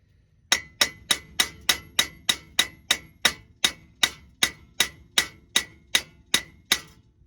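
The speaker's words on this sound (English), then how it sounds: "we'll just kind of keep smacking on it till it comes out" About fifteen sharp, evenly spaced metal hammer blows strike a front axle dust seal on a 2006 Ford F-250, each hit ringing briefly before the next, close and clear with no talk.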